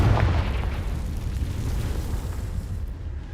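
A Confringo spell explosion in the Hogwarts Legacy video game, a deep rumbling boom that swells and lingers as a continuous low roar for several seconds.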